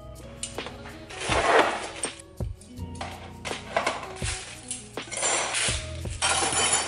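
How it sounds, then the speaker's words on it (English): Old metal knives and forks clink and clatter in a drawer, with bursts of jangling metal and sharp clanks at irregular intervals, close and fairly quiet, no voices. "These are the old knives and forks."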